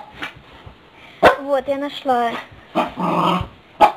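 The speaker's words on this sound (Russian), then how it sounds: "моя собака, рычит, гавкает" A pet dog at home growls and gives short barks, close by and fairly loud, mixed in with someone speaking Russian in the foreground.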